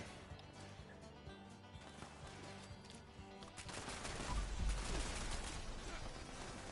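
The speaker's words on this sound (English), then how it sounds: "I'm being shot at, but I can't see the enemy." Rapid gunfire in a video game shooter, a dense stream of quick shots building in loudness toward a heavier burst, heard at low level.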